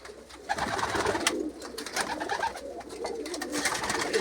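Pigeons coo in a loft, a close, continuous murmur of low throaty calls overlapping one another, with soft rustling and occasional wing flaps and no voices.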